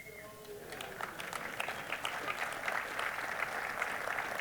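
A keynote audience celebrating twenty years of Google Summer of Code breaks into applause that swells after a brief voice and holds as a dense, steady wash of clapping from a large room.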